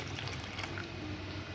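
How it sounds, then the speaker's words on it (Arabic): Boiled water is poured into a pot of food being cooked at home, a steady close pouring and splashing wash of liquid with no speech over it. "هنزود بقى شويه ميه صغيرين عليه عشان يبقى طعمه حلو"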